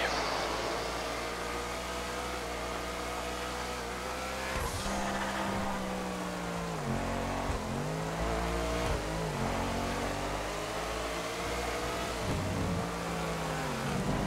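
Racing car engine in a video game, driven on a track-spec setup in the rain, revving loudly and steadily with shifting pitch changes and gear drops, alone without talk.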